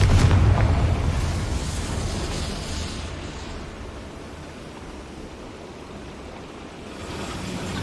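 A Confringo blasting spell bursts in Hogwarts Legacy, a loud deep boom at the start that rolls off into a long, dense rumbling wash of noise, swelling slightly again near the end.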